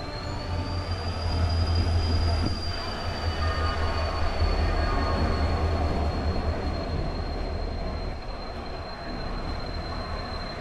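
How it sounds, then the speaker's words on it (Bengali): The Tamralipta Express (12857) rolls into a platform at Howrah with a continuous heavy rumble and a long, high metallic squeal of wheels braking, loud and close throughout. "আর এই যে আমাদের ট্রেন ঢুকছে তাম্রলিপ্ত এক্সপ্রেস 12857"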